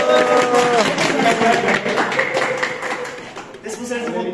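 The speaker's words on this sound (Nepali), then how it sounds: "एकचोटि हामी सबैजनालाई ताली बजाउनु भयो" An audience at a civil engineering survey camp in Nepal gives a round of applause, dense clapping heard throughout with voices talking over it.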